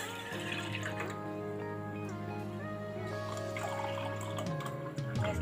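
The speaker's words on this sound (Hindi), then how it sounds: "हम इसमें दूध ऐड करेंगे।" Milk is poured into a cooking pot for kheer in a steady liquid stream with tonal ringing from the pot, over faint background music.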